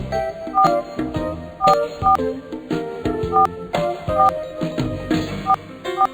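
Telephone dialing tones from a children's educational cartoon, a series of short electronic beeps in an irregular rhythm, clear and close with little else around them.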